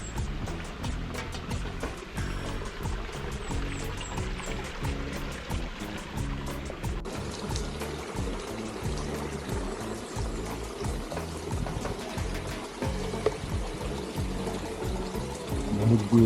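Water from a natural spring at Poniente Springs in Amadeo, flowing and splashing steadily in a shaded, tree-covered spot, a continuous close rushing wash with no break.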